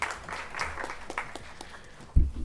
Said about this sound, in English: Let's welcome her with a big round of applause.